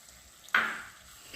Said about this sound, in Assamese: বিলাহীখিনি দি ভালকৈ লৰাই আকৌ ঢাকি দিম।